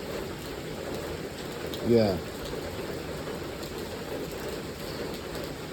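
Heavy rain in South Korea pours in a steady, even hiss on a humid evening, continuous and fairly soft, with a brief spoken word from a person partway through.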